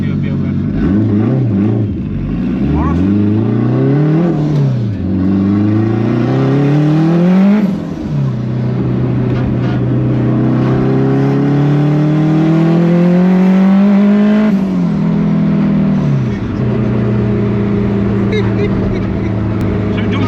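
A turbocharged Honda making 450hp on only 8psi of boost accelerates hard through the gears, its engine note rising loud and close in repeated sweeps with brief dips at each shift, with voices heard inside the car.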